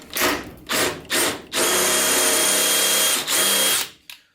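Power drill boring out a stuck bolt on a 1966 VW Double Cab pickup: three short whirring bursts, then a long sustained high-pitched drilling run with a brief dip before it winds down, close and loud.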